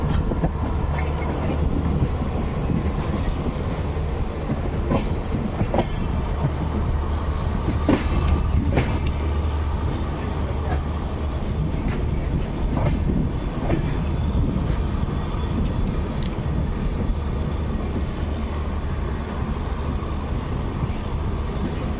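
Train at Puri railway station, India: a steady, loud rumble of rolling stock with clickety-clack and scattered metallic clanks continuing throughout, with no talking.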